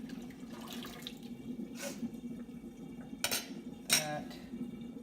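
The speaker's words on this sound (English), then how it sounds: "Give this a good shake, get the water out, drain this water" Rinse water being drained from a film developing tank during home color film processing: a low running trickle with a few sharp splashes and plastic clunks as the tank is shaken, close and fairly quiet.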